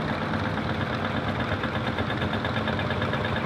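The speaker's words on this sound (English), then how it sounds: "with it still retaining that two-stroke diesel engine" A steady, rough two-stroke diesel tractor engine chugs continuously up close at a steam rally in Shrewsbury, a dense rumbling drone with no pauses.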